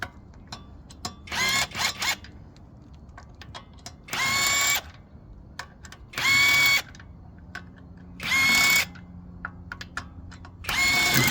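A power tool spins off the wheel fasteners on a Mercedes CLA 250 during a rear brake job, four loud, close whirring bursts of about half a second to a second each, separated by quiet pauses.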